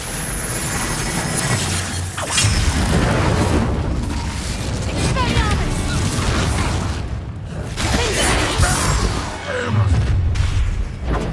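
Spell combat in Hogwarts Legacy with a Confringo fire-blast spell: loud, dense booms and crackling blasts with whooshing bursts, continuous and busy throughout, mixed with shouted battle voices.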